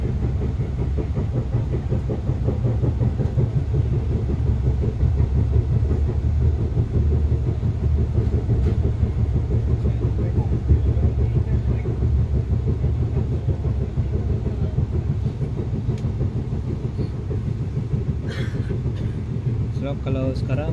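Interior of a moving KTM train running south through Malaysia, a steady loud rumble with rhythmic wheel clatter on the rails throughout, continuous and close.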